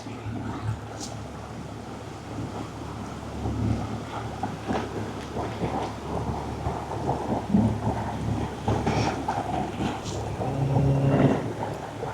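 Low, steady engine rumble of motorboats running one behind another through mangrove forest water in Malaysia, with churning wash and a few louder surges, no talking.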